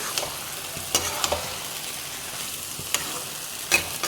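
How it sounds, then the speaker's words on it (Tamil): Chicken pieces frying in oil as they are stirred: a soft, even sizzle marked by a few sharp scraping strokes of a spoon at irregular intervals, with no voices. "சிக்கனை சேர்த்து நல்லா மிக்ஸ் பண்ணிக்கலாம்."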